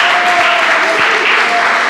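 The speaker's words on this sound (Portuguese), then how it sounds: "Vamos aplaudir o Senhor bem forte" Steady congregational applause fills a church service, dense and loud throughout with a faint voice singing over it.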